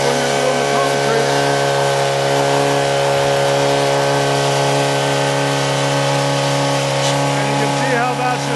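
A Honda GX35 four-stroke engine on a concrete tool runs steadily at high throttle, its loud, even drone with strong harmonics holding throughout and close to the listener.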